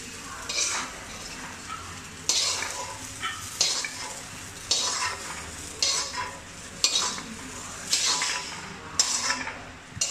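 Fried potatoes and okra for aloo bhindi masala are stirred in a hot pan, steady sizzling broken by repeated loud scrapes and clatters of a spoon against the pan, close by.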